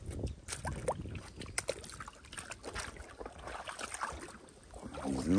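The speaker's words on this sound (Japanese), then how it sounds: "この水の音がいいよね。" Gentle lapping and sloshing water against a small bass-fishing boat on Lake Biwa, irregular soft splashes and knocks close by, with a breezy background.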